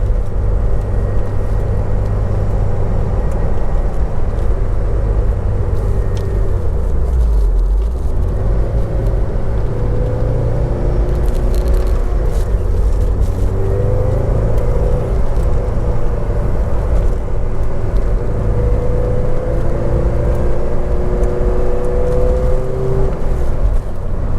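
A 1995 Porsche 968 drives along a stretch of road, its engine a steady close rumble with rising and falling pitch as it accelerates and shifts, accompanied by continuous road and wind noise throughout.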